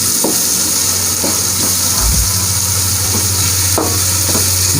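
Chillies cook in a pan for chana dal halwa, a continuous close sizzle and frying hiss with a few soft stirring scrapes scattered through, steady and loud with no talking.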